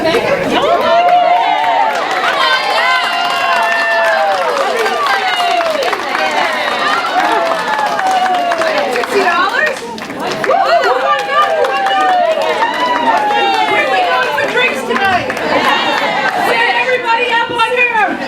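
A sellout audience chatters throughout, a dense wash of many overlapping voices filling the room steadily, with brief bursts of laughter and clapping rising out of the murmur.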